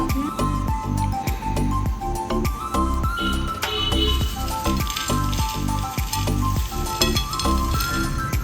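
Tapioca chips with curry leaves sizzle loudly in hot oil while being stirred, with rhythmic scraping and clinking of a spatula against the pan throughout.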